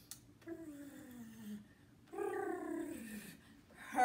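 A voice imitates a cat's purr in a couple of drawn-out, wavering rolls, soft and close, with a brief quiet gap between them.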